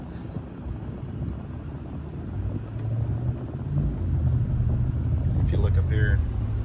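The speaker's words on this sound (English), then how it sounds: "These trucks ride really nice." A 2020 Ram 1500 Limited 4x4 pickup cruises along, its steady low road and engine rumble building gradually with light wind noise, while someone talks over it.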